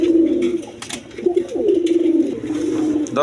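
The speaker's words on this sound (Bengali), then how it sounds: "এইখানে এক পেয়ার বিউটি কবুতর আছে দেখেন একদম কোয়ালিটি সম্পন্ন ব্ল্যাক বিউটি" A pair of Black Beauty pigeons offered for sale coo in soft, rolling, repeated phrases close by, with faint background voices and rustling.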